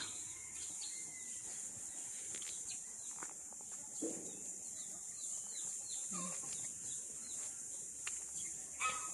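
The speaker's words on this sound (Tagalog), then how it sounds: "Manok." Chickens cluck intermittently at a distance on a farm lot over a steady high buzz of insects, with occasional faint rustles and no talking.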